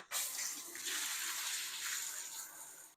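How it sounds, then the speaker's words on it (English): Water runs steadily through a Thermomate ET140 tankless water heater during installation, a bright continuous rushing flow like an open tap that starts abruptly and holds strong and close without talk. "you do want to run a little bit of water through your unit, maybe for a minute or so"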